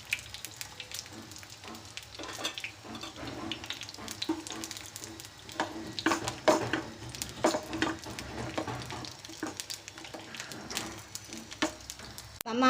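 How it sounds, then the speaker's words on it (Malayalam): Heated capsicums are scooped out of a pan with the gas just switched off, bringing residual sizzling and frying crackle along with scattered metallic scrapes and clinks of a utensil against the pan, close and steady. "ഗ്യാസ് ഓഫാക്കി നമുക്കിനി അത് കോരിയെടുക്കാം."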